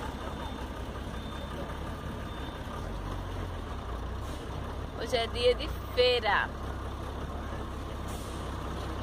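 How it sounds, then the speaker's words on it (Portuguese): A truck pulls into a town square on market day in northeastern Brazil: a steady low engine rumble runs throughout, broken midway by a couple of short, loud hissing bursts like air brakes, while a person talks nearby. "Esse caminhão entra aí."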